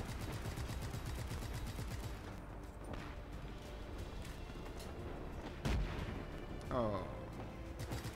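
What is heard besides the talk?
gunfire at a tank in video game Just Cause 3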